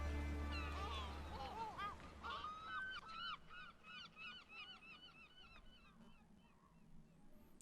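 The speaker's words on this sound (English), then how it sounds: "and then leave the seagulls on" Seagulls crying repeatedly in a series of shrill, falling calls, starting over a low fading music bed and then continuing alone, moderately close.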